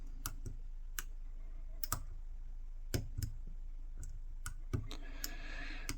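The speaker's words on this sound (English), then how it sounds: "I'll go in with this multi-pick number 4 and see if we can't get a lot of these pins set" A dimple pick works the serrated pins of a Mul-t-lock C16 padlock, giving sparse, faint metallic clicks and ticks at an irregular pace over a quiet background, close up with no talking.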